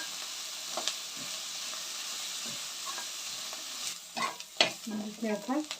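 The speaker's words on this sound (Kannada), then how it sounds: "ಈರುಳ್ಳಿ ಚೆನ್ನಾಗಿ ಕೆಂಪು ಆಗೋವರೆಗೂ ಚೆನ್ನಾಗಿ ಬೇಯಿಸಬೇಕು" Onions frying in a pan until reddened for lemon chitranna rice, a steady close sizzle that grows busier as stirring and spoon scrapes pick up in the last seconds.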